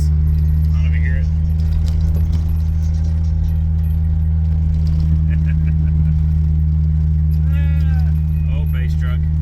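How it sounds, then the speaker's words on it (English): Repeated ding of a door chime on a heavily beaten base-model truck whose door seal is damaged, sounding steadily under a loud engine drone and road rumble, with faint metallic jingles and brief talk nearby. "the door chime is now just going nuts"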